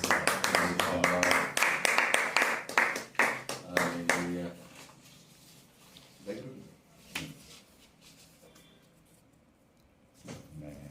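Congregation clapping hands at a Telugu Christian wedding service, a burst of dense rhythmic claps over the first few seconds, then fading to a few scattered claps, with talk mixed in.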